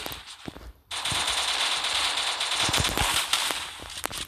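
Rapid bursts of gunfire from a mobile battle game in Free Fire's Lone Wolf mode, a dense crackling volley that stays loud and steady for most of the clip after a short gap near the start.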